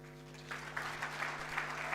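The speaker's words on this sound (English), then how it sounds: "can we have another warm round of applause?" An audience at a national ICT summit breaks into applause, a dense patter of clapping that rises after a brief quiet start and carries on steadily, heard from a distance over a low hum in the hall.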